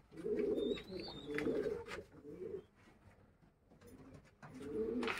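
Racing pigeons kept in a single cage coo in repeated low, throaty bursts, close by and steady, with a few sharper chirps mixed in.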